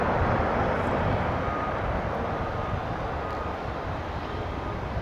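A Boeing 787 Dreamliner taxiing out of a hangar at Dallas/Fort Worth Airport, heard as a steady broad jet engine roar held at a constant level throughout, with no voices.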